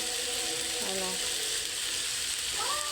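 Menudo ingredients sautéing in hot oil in a pan, a steady close sizzle and crackle throughout with a faint stirring scrape and brief tonal clinks.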